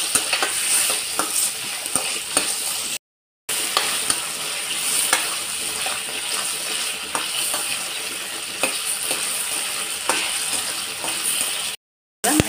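Masala with cashews fries in a pan for egg curry gravy, a steady bright sizzle broken by scraping stirs, with two brief silent gaps.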